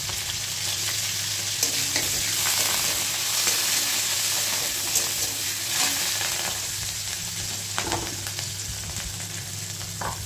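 Curry leaves and onion frying lightly in a pan for a kakrol dish, giving a continuous close sizzle with occasional soft stirring scrapes and no voices.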